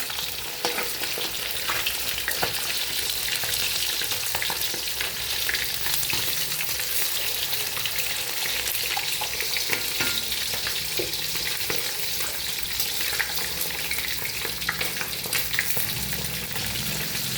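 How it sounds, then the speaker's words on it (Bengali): Fish frying in a pan over a gas flame, a continuous loud crackling sizzle up close with occasional sputters, heard alone. "আজকে মাছটাকে আগে ভেজে নিচ্ছি সুন্দর করে।"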